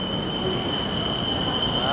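A train passing near tall city buildings in Thailand, a steady loud rumble of rail cars with a high wheel squeal running throughout.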